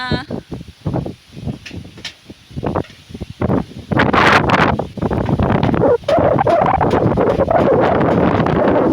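Strong gusty wind on a house roof in the Philippine countryside buffets the microphone in loud, irregular bursts and roars, growing heavier and more continuous toward the end.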